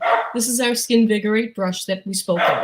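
A pet dog barks and yips indoors during a live product presentation. The short bursts are mixed into steady, close talking from a person.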